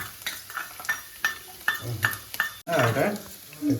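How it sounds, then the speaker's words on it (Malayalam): Finely chopped garlic and ginger fry in a hot pan while a spoon stirs them in quick, clattering strokes under a speaking voice, followed by a short pause and a louder burst of stirring. "അത് നമുക്കൊരു മുപ്പത് സെക്കൻഡ് വരെ നമുക്ക് ഇളക്കാം"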